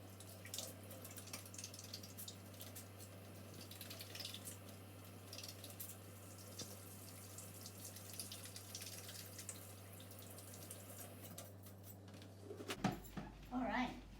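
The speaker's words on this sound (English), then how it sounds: "So let me give my hands a good wash." Water running from a kitchen sink tap while hands are washed, a steady splash and trickle lasting most of the clip, with a low hum underneath and a brief shift near the end.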